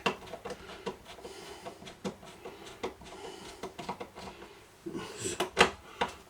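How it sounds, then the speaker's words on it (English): Screws being driven into a 1960 EAR record player during restoration, with scattered clicks and knocks from the tool and casing, then a louder cluster of scraping and thuds near the end, close and fairly quiet. "pop a screw into there. Might have to use them screws"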